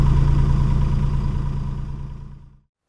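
The engine of an old, battered dumper moving soil runs in a steady, loud, low mechanical drone, then cuts out and falls silent near the end.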